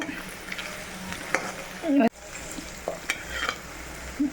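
Pickle pieces frying in oil in a pan, a soft sizzle with scraping stirs and clinks, brief louder knocks near the middle, no talk.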